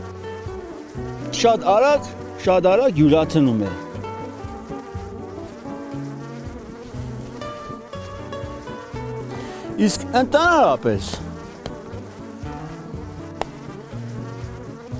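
Honey bees hum and buzz continuously around a beekeeper's hive, individual bees swelling louder as they pass near, while someone talks over the droning.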